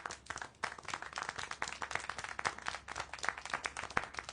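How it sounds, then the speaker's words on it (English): Hands clap in Syberia: The World Before, a quick, continuous run of crisp claps like brief applause, fairly close and steady for several seconds with no talk. "Clap? How can you clap? Oh, so you like the noise, do you?"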